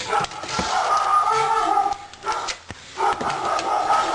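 Several dogs bark in quick, overlapping bursts close by, loud and repeated throughout, with a sharp thump partway through.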